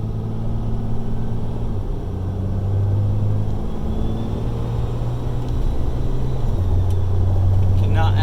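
A 1200 HP 2012 Limited dually pickup truck pulling away, its engine a deep, steady rumble that swells and shifts as it drives off, loud and close.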